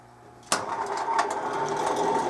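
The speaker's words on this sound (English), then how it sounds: "We'll plug this heater in, see if that works." A salvaged electric heater, plugged in and started, switches on with a sharp click, then runs with a steady buzzing hum and faint rattles.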